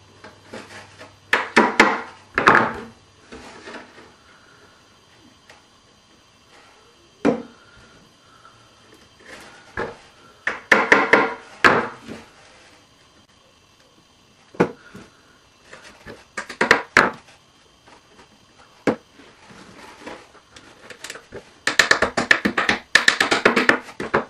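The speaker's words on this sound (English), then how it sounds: "Use a hammer to tap them on in there." A hammer taps glued pins into a pocketknife handle in short bursts of sharp, close knocks separated by pauses, with a voice speaking between the strikes.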